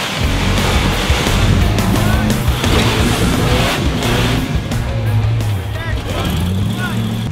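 Off-road rock crawler engine at a hill climb, a loud, close, rough roar that rises and falls as it revs, with someone talking over it.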